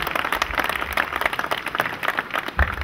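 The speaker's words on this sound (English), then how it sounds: "One round of big applause" Audience applause fills a corporate Independence Day celebration, steady dense clapping from a sizeable crowd lasting throughout at moderate loudness, with no voices over it.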